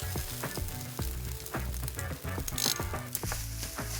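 Rice and garlic fry in a hot pan for homemade fried rice, giving a steady loud sizzle with repeated scraping and clatter from stirring throughout, with no talking.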